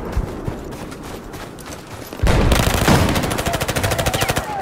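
Automatic gunfire in the Battlefield 4 video game, a quieter stretch of shots followed by a loud, rapid sustained burst with rhythmic repeated cracks, close and up front.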